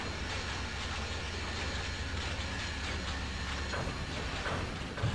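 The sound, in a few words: train moving along the rails, from a video game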